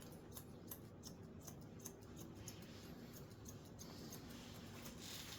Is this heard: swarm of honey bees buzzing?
no